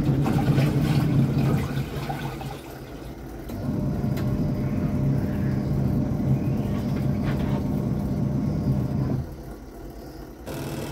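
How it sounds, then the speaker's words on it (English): Von twin tub washing machine's wash tub running during a cleaning cycle, a steady low motor hum with churning water, loud and continuous with a brief dip in level near the end. "So here is the noise of the wash tub when cleaning."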